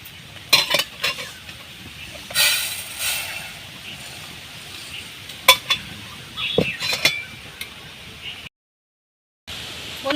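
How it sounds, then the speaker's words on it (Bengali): Rice is poured into a pan in a traditional Bengali village kitchen for making puffed rice. Grains hiss and rattle in several uneven bursts with a few metallic scrapes, then a short silence near the end. "এবার আমি চালটা কিন্তু ঢেলে নেব।"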